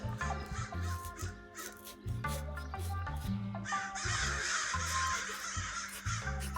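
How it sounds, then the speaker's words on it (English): Several crows caw repeatedly in short, harsh bursts, fairly near, with some overlapping calls and a faint scraping noise underneath. "Crows are laughing at me."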